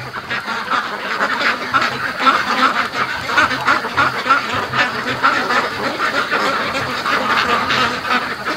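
A flock of ducks quacks busily at night while a goose honks among them, a close, continuous chorus of overlapping calls with no talk.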